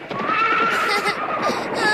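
A horse in an animated battle-adventure series whinnies loudly and close, a rising then wavering neigh lasting about two seconds, with faint hoof clatter beneath.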